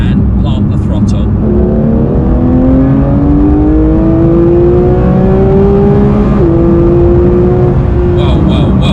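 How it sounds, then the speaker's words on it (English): Porsche 992 GT3 Touring with a PDK gearbox accelerates hard in third gear, its engine note climbing loudly and steadily toward a high-revving wail before a quick seamless upshift, with voices heard briefly at the start and end. "So let's go into third gear and plant the throttle."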